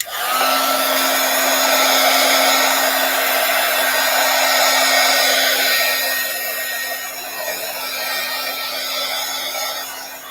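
A hair dryer dries paint on a small craft piece, blowing as a steady, loud, continuous whir for about ten seconds that eases slightly toward the end. There is no speech.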